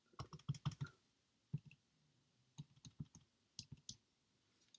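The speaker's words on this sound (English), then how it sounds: "we can actually type into the calculator" Keys tapped on a calculator keypad while working a square-root algebra problem: a quick burst of four or five clicks, then scattered single and paired taps, close and crisp with no talk.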